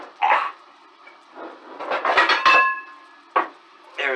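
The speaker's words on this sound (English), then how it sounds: "There's the lid to the skillet. I'm gonna put that on there" A metal lid clatters onto a skillet where lean ground chuck is cooking, with a few sharp clanks and a ringing metallic tone amid other kitchen knocks.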